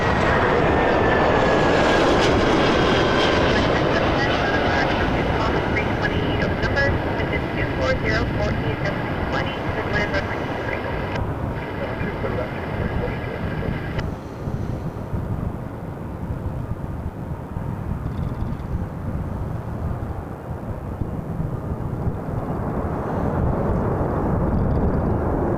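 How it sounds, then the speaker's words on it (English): Air Canada A320 airliner arriving from Montreal at Toronto Pearson, a loud, continuous jet roar that swells and then slowly fades, with voices talking over it. "That was Air Canada 421 coming from Montreal on an A320"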